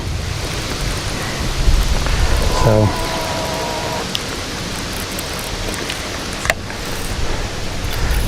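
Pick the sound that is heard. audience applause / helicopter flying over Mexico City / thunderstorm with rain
thunderstorm with rain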